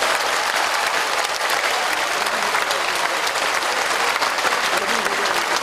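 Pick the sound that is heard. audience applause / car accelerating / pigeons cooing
audience applause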